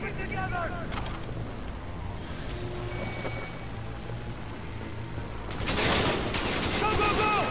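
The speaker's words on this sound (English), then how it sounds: "They're shooting." Gunfire in the video game Cyberpunk 2077, a steady stream of shots and bursts over a dense combat mix with vehicle noise, swelling louder and busier toward the end.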